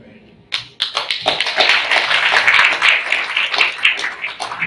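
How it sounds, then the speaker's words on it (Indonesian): Audience applause rising at a political party installation ceremony in Yogyakarta, a burst of clapping that starts after a short pause and holds steady and fairly loud to the end, with voices mixed in. "Tepuk tangan sekali lagi"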